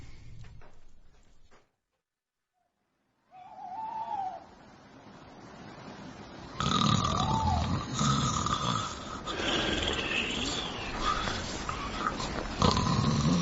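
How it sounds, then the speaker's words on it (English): A person snores in bed with drawn-out rasping breaths. The snoring comes after a brief silence and grows louder and rougher as it goes on. "You better not snore."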